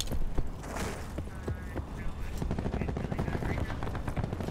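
Rapid gunfire from a Call of Duty: Black Ops 4 team deathmatch, with bursts of shots and sharp reports layered over game noise, while players talk over it.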